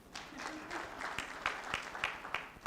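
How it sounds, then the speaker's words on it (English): An audience applauds at a ministers' conference on education with scattered, fairly faint handclaps that come in a loose rhythm, heard at a distance in a large room, with a few claps standing out over a low murmur. "I want you to clap for yourselves"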